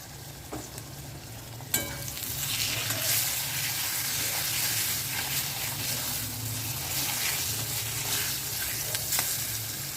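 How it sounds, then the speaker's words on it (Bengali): Potato and eggplant pieces frying in a pan with salt and turmeric for a fish curry, a continuous moderate sizzle with occasional pops and a utensil clink near the start, no voices. "আলু বেগুনটা ভাজা ভাজা হয়ে গেলে মশলাটা দিয়ে দেবো"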